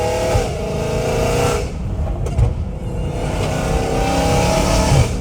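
A Dodge Hellcat Redeye with a titanium catless exhaust revs hard and loud up close, a raspy roar rising through gears with a brief dip before climbing again.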